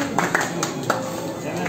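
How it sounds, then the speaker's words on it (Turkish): A few scattered hand claps ring out in a restaurant right after a clay testi kebab pot is broken, brief and sparse against ongoing room chatter. "Hanımefendi bir alkışlayabilir miyiz?"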